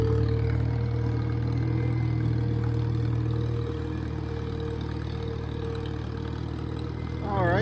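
A farm vehicle's engine runs steadily at idle after the clutch is popped, a continuous low mechanical drone with light clatter, fairly close and unbroken throughout.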